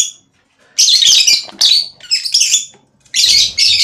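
Pet lovebirds chirp close by indoors in a series of sharp, high, bright bursts separated by short pauses, clear and loud with no talk over them.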